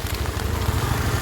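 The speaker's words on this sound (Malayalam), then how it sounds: "നല്ല തോതിലുള്ള മഴ പെയ്തേ നിൽക്കുന്നുണ്ട്" Heavy monsoon rain pours steadily during flooding at Eengapuzha, a dense, continuous hiss with a low rumbling roar underneath, close and loud throughout with no voices.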